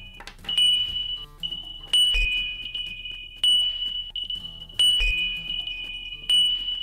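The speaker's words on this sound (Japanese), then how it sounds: "タップしてブザーを鳴らす" A high-pitched locator buzzer from HHOGene GPods wireless earbuds beeps in repeated short bursts, pausing between each cycle, with faint clicks in the background.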